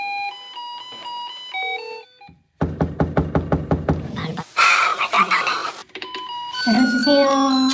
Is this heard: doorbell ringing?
yes